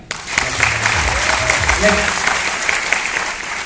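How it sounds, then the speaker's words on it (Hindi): Loud, dense applause bursts from an audience at a Safe Shop success-story talk, with a low voice briefly talking over the first seconds of steady clapping. "जिन्होंने कुचल दिया उसके लिए जोरदार ताली।"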